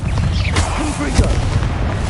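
A Confringo fire spell blast in the Hogwarts Legacy game, a loud booming explosion with rumbling low end, overlaid by brief game effect sounds and voices.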